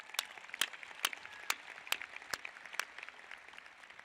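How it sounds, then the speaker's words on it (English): Crowd at a 2018 commencement ceremony clapping for a graduate, heard as sharp, evenly spaced claps that ring out over a quieter patter of applause. "give her a round of applause"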